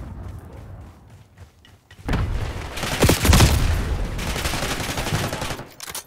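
Gunfire from the video game Call of Duty: Black Ops 6: a quieter opening gives way after about two seconds to loud, dense overlapping bursts and booms that keep rolling to the end.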